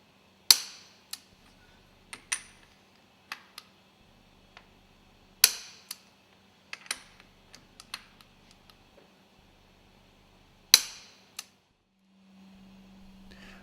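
Nuts on an engine cylinder cover are tightened with sharp metallic clicks and snaps. Single strikes and short clusters come at irregular intervals over a quiet hum, followed by a steady low drone at the end.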